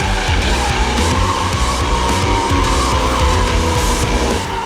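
A 1988 Highway Patrol Fox Body Mustang with a 351 Windsor V8 drifts, tires squealing continuously under a loud, steady engine roar, close and sustained throughout with no talking.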